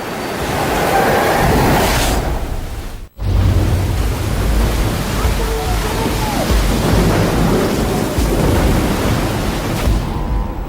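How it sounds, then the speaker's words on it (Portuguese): A storm rages at sea near the coast of Africa, with a continuous loud roar of wind, rain and crashing waves and a brief drop in the middle, no voices. "Pego numa tempestade perto da costa da África, em busca de uma nova rota marítima para o Oriente"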